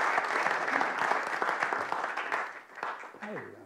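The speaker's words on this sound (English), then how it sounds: "would you give Nick a round of applause as he comes out, my new best friend?" Audience applause at a comedy gig as a guest named Nick walks on, a dense wash of clapping with a voice speaking over it near the end before it tapers off.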